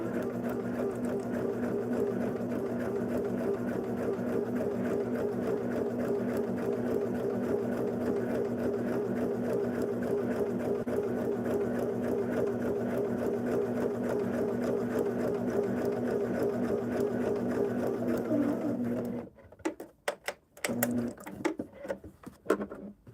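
A sewing machine stitches along a marked line on a quilt block, a steady whirring hum with fast rhythmic needle pulses running continuously before stopping, followed by a few scattered handling clicks and rustles.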